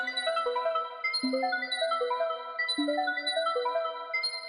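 A looping synth melody in a minor key moves in small half-step shifts, with plucky repeated notes over a low sustained bass, no voices.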